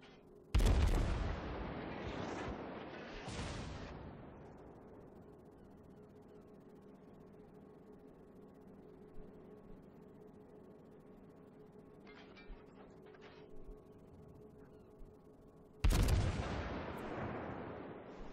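Heavy naval gun salvos from a cruiser in World of Warships: a loud booming blast at the start, another about three seconds later, then a long rumbling lull with faint clatter before a final loud salvo near the end.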